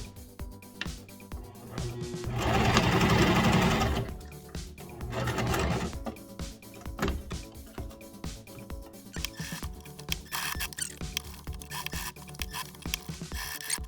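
A sewing machine stitches Velcro onto a pant leg, with a loud sustained whirring run lasting a couple of seconds, a shorter burst after it, then faint rubbing and handling noises of fabric.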